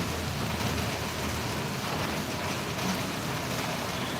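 Dense, steady rain pouring down without wind, a continuous hiss of drops hitting surfaces with no voices, unbroken for the whole stretch.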